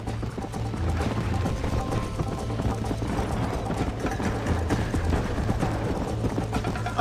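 Horse hooves gallop in a race in the Red Dead Redemption video game, with a steady rapid clip-clop running the whole time over a dense game soundscape.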